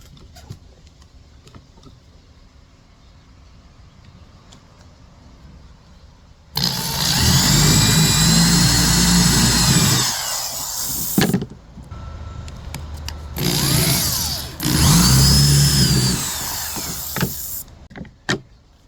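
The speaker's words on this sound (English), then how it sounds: "Now it's time to drill the center holes, which are 5/16." A loud power drill drilling 5/16-inch center holes whirs in two sustained bursts, the second broken by a brief pause, after several seconds of quiet room noise.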